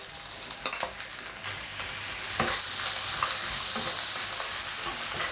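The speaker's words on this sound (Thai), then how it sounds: "เราก็จะนำในส่วนของเครื่องที่เราทำการโขกค่ะ ลงมาผัดให้หมดเลย" Pounded chili paste for a young green peppercorn nam prik being stir-fried with crisp-fried pork belly in a pan: a steady loud sizzle with scraping stirs of the spatula, a few sharp clanks near the start, no talking.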